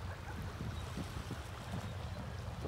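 Gentle waves lapping at the shore of a private island beach in the Bahamas, a steady soft wash of water with a low rumble underneath, continuous and fairly quiet, with no voices.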